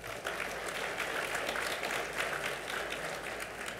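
Audience applause at a Cayman parliamentary luncheon, a steady wash of clapping from a crowd of guests in a hall that holds evenly for several seconds at moderate distance.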